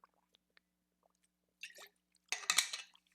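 Water being drunk close to the mic: a few faint wet clicks, then brief slurping gulps and a louder swallowing splash, with no talk.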